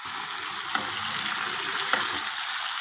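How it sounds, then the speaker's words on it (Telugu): Bitter gourd deep frying uncovered in an open pan of oil, a steady loud sizzle and crackle throughout, with two faint utensil clinks as the pieces are stirred. "మనం మూత పెట్టకుండా చక్కగా ఫ్రై చేసుకోవాలి"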